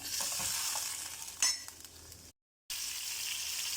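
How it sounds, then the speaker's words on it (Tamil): Onion, tomato and garlic sauté in a pan for sambar, giving off a steady close sizzle with a stir and a light clink near the middle, then a short silent cut before the frying resumes. "வெங்காயம் தக்காளி பூண்டு வதங்கட்டும்."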